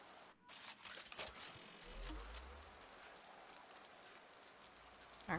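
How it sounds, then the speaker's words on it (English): Steady rain hiss in the video game Mass Effect, a broad even wash of falling rain with a brief low rumble partway through and a short sharp sound at the end. "Very rainy."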